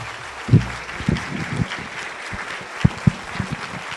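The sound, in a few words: audience applause after a lecture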